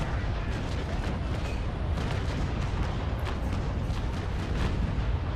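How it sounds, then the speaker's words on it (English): Ship cannons fire a broadside in the age-of-sail naval battle game Naval Action, a dense, rumbling barrage of overlapping booms that holds steady and loud with no pauses. "fire bottom 2 decks at him, firing from the stern"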